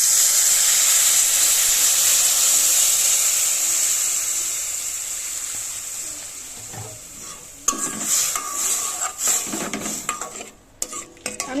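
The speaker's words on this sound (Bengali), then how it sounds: "এবার একটু জল দিয়ে দেব।" Water poured into a hot pan of potatoes and water spinach seasoned with salt and turmeric: a loud, bright steaming hiss that fades over several seconds, followed by clattering stirs and utensil scrapes against the pan.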